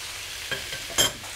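Leeks and diced pumpkin go into a pot for a creamy pumpkin soup and get stirred, giving two brief scraping clatters over a faint, continuous sizzle.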